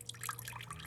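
Water drains from the engine sump of a 1926 Fordson F tractor through the drain plug, heard as a faint, close trickle with soft irregular drips over a quiet hum.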